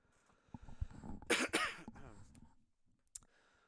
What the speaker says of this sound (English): Oh, when will this cough go away?